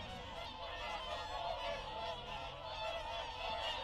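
Wild geese honk steadily in a dense, continuous chorus at Marten Mere wetland in Britain, a wintering site for swans, ducks and geese, with overlapping calls from a large flock and no talk.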